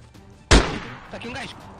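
A single gunshot in the survival video game DayZ, one sharp loud crack followed by a short decaying tail, with faint voices and game ambience around it.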